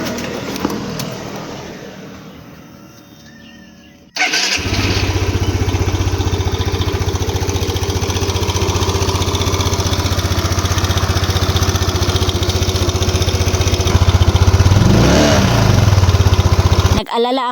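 A Yamaha BWS 125 scooter engine runs steadily during break-in after an injector fix, a close, continuous mid-pitched drone that starts abruptly after a quiet opening and holds level, with a brief swell near the end.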